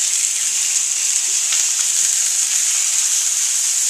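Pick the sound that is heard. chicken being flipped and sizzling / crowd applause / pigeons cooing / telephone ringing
chicken being flipped and sizzling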